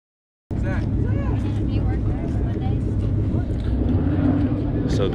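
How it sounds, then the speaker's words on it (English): Car engines rumble and rev at a charity car show meet, a steady, loud low drone starting abruptly and holding throughout, with people talking over it. "That's the only thing to do is rev bomb."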